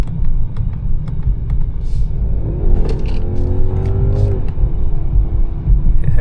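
A 2025 Mercedes-Benz S580 accelerates under paddle-shift control, its engine rumble rising steadily with audible gear changes and revving close by, loud and without talk.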